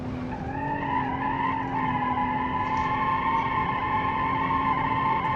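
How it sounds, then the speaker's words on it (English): Car tires squeal in a long, steady screech while drifting in the BeamNG.drive racing game. An engine drones underneath, the pitch wavers slightly throughout, and the squeal stays loud and continuous with no talk. "The tires squealing, they just drifting away."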